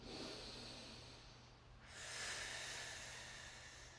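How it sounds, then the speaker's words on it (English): A person in an exercise class, lying with thighs raised and abdominals drawn in, takes a deep breath, heard as a soft, close, airy exhale that fades and then swells into a longer inhale, with no talk. "Let's take a nice deep breath."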